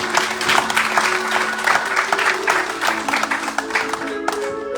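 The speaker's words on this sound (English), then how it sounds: "Please give him a big round of applause." Audience applause during the Ramayan Yagya session at Sudama Mandir, a dense steady clapping from a gathered crowd of devotees, sustained for several seconds with a sustained tonal hum underneath.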